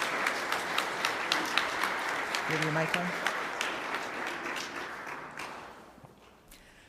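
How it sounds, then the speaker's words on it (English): An evening audience gives a round of applause, with many distinct claps standing out against the crowd. A short spoken phrase breaks in partway through, and the clapping fades away toward the end. "let's give them a big round of applause and thank them for being here tonight"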